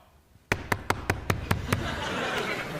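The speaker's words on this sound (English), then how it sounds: "Listen to my knock." A person knocks seven times in a quick, even series, sharp close raps on a hard surface, followed by audience laughter and murmuring building up behind.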